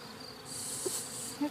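Honeybees buzz steadily inside a beehive, around a frame of brood cells, with a close, even, high hum lasting a moment and no talk.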